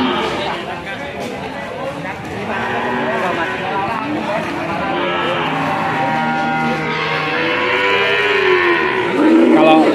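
Cattle mooing at a busy livestock market for young bulls in Ambarketawang, with loud, drawn-out lowing from several animals close by over constant crowd chatter and voices.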